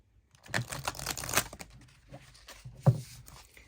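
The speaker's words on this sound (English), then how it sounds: "So let's give this deck a shuffle." Dense papery riffling and flapping of a deck of oracle cards being shuffled, a burst of quick rustles with a sharper snap near the end, close up.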